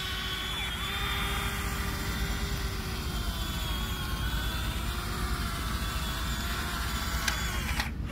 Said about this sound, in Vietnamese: Bây giờ bạn máy xúc sẽ chạy qua nha.